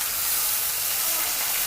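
Ginger paste sizzles steadily in hot oil with onions already fried red, a continuous close, even hiss of frying throughout with no voices.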